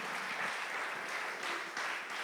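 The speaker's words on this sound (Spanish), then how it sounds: "Démosle un aplauso al Señor" Congregation in a church service clapping together in praise of the Lord, a steady, dense wash of applause with slight swells, no voices over it.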